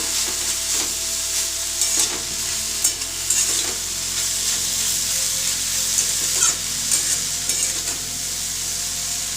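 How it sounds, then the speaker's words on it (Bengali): Grated potato seasoned with a little salt being stirred as it fries in a pan, with a steady sizzle and repeated scraping strokes of the spoon, close and loud with no talking. "খুব সামান্য পরিমাণ লবণ দিয়ে দিচ্ছি আলুর মধ্যে, দিয়ে ভালোভাবে নেড়ে দিচ্ছি।"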